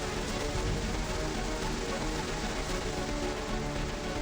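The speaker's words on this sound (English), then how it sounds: "Beats getting rained on out here." Rain falls steadily in the video game Dragon Raja, a constant, even hiss of drops on surfaces with no breaks and no other sounds standing out.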